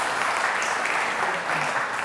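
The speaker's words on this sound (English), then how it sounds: "Let's have another round of applause." Audience at a community awards evening gives another round of applause, a full, even roar of many people clapping together without any voice over it.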